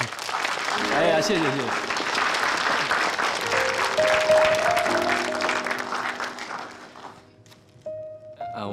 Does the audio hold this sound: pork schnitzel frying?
no